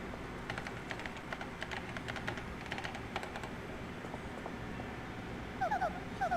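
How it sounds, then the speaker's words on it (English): Keyboard typing in the video game Paper Mario: The Thousand-Year Door, a run of quiet, quick clicking taps through most of the stretch, with a few brighter chime-like blips near the end. "Use the keyboard to send whatever message you want."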